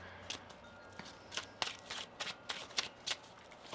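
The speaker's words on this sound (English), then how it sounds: "One more shuffle here." A deck of tarot cards is shuffled by hand, a run of quick riffling snaps and soft flutters repeating in an uneven rhythm, close and fairly quiet with no talk.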